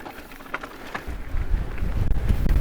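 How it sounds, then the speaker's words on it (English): Wind buffets the microphone while riding an Orbea Rise e-bike, a low roaring rumble that swells from light to heavy and gusty. "Every time I cut back this way, I just get pummeled with wind."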